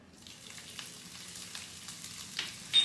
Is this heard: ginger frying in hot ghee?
yes